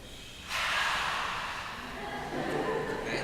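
A human voice from a band imitates locomotive steam with a long, breathy hiss that starts abruptly and trails off, close and fairly quiet.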